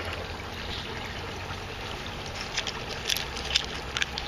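Water pours steadily out of a pipe in an aquaponics system, making a continuous close rushing splash with a few brighter spattering bursts near the end and no voices.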